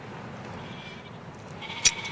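Lambs on a farm bleat during ear marking, with a steady low hum of the flock and a single short, loud bleat near the end.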